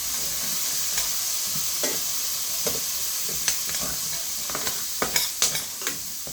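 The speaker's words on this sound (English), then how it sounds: "we're going to add 1/4 cup of minced garlic" Minced garlic sizzling in pan drippings while being stirred, a steady hiss of frying with scattered sharp clinks and scrapes of the utensil growing busier toward the end, no voices.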